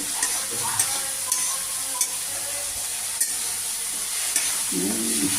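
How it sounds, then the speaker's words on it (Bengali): Kachki fish curry masala sautéing in oil, a steady close sizzle with occasional scrapes and stirring clinks, no talk. "আর একটু কষিয়ে নেবো একটু কষে আসলে পরে তেলটা যে ছেড়ে দেবে"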